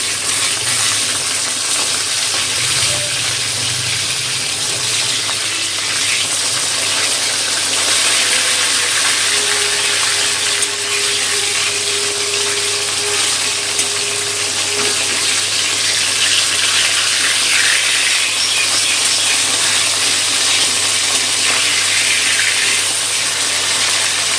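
Rohu fish frying in a pan of oil, a loud continuous hissing sizzle that holds steady without pause.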